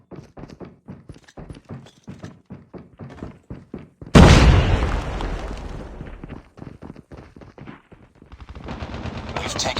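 In Call of Duty Mobile, rapid rhythmic gunfire is cut off by a loud, close grenade explosion whose boom rolls off slowly before shooting picks up again.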